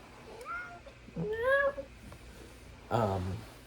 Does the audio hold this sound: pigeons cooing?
no